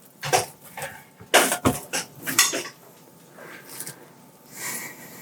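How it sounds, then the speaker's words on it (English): Metallic clanks and scrapes of a frying pan being set down and shifted on a stovetop, several sharp knocks close by, with no talking. "I'm going to get this frying pan on so he can saute some of that seitan."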